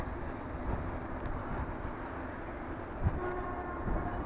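Trains standing at a far-off railway station send a low continuous rumble across the distance, with faint horn-like tones and occasional clanks, no voices.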